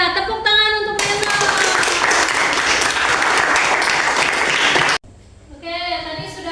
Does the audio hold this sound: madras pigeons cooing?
no